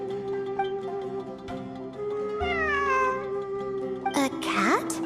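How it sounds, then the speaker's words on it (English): A cat in the video game Genshin Impact meows repeatedly, clear and close, with drawn-out rising and falling calls over a sustained musical drone, ending in a sharper caterwauling cry. "It really is a cat."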